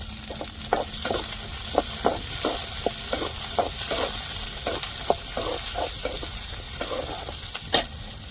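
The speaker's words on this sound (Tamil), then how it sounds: "நம்ம கட் பண்ண சின்ன வெங்காயத்தை சேர்த்துக்கிறோம் மிளகா சேர்த்துக்கிடுவோம்" Sliced small onions and chillies fry in hot oil in a pan, a steady close sizzle broken by repeated spatula scrapes and taps at an uneven rhythm.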